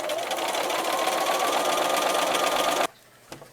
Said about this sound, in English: I'm going to sew a straight line across, corner to corner, or edge to edge here